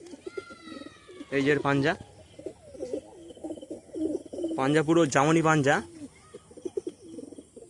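Pigeons coo repeatedly in two loud bursts at a pigeon fancier's loft, with softer cooing and bird calls between them while someone talks nearby.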